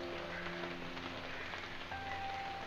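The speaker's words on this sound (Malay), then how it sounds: "cuacanya hujan" Steady, soft rain patters on a surface, a continuous fine hiss of drops with no voices.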